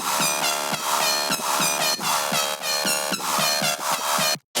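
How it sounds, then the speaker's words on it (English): A soloed synth section from an electronic track blares loud and dense, with brassy, horn-like stabs pulsing in a steady rhythm before cutting off abruptly near the end. "This is the synth section soloed out."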